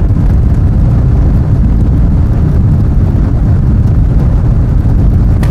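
Aston Martin sports car driven at speed across the Bonneville Salt Flats, its engine and road roar steady and loud, dense low rumble throughout with no talk.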